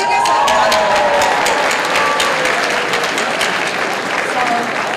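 Danbury High School crowd applauding and cheering after winning $100,000 in a store's Celebrate My Drive program, a loud, dense wash of clapping and whoops with voices mixed in.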